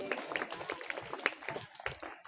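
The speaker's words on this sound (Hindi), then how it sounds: "आस्था सिंह के लिए जरा जोरदार ताली बजाइए" Brief, fairly faint clapping from a small audience for a student during a lesson on mind management, a scattered burst of hand claps lasting a couple of seconds.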